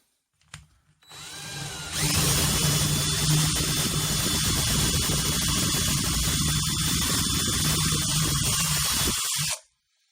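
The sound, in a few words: power drill drilling a hole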